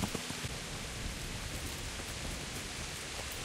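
Steady rain falls in a forest at dusk in the Kingdom Come: Deliverance video game, a dense continuous hiss of drops heard alone at low level without any voices.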